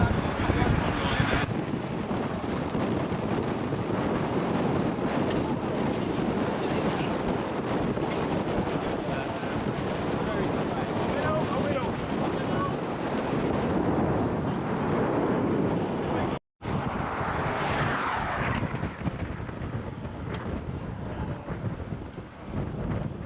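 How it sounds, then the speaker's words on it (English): Strong wind rushes over the microphone during a group road bike ride at a race team's pre-season training camp, a steady loud roar lasting throughout with a brief dropout near the end, and faint voices underneath. "Quite a bit of wind today."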